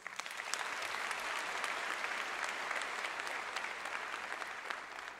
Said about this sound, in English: I think that they all deserve a round of applause.